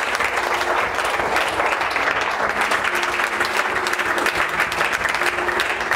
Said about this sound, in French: On peut acclamer pour ces petits communiqués